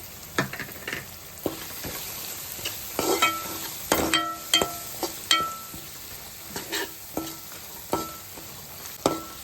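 A tempering of spices and asafoetida sizzles in hot oil, with a soft steady hiss broken by repeated sharp clinks and scrapes of a spoon stirring against the pan.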